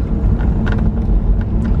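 A car coasts down a road with the engine quiet, leaving a steady low rumble of tyre and road noise with some wind buffeting, close and continuous.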